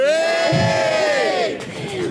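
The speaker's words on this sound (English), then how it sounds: "Former Liverpool MP Eric Heffer, a little cheer there please" A crowd at a memorial march in Liverpool gives a loud, brief cheer, a sustained group shout with rising and falling voices close by that tails off after about a second and a half.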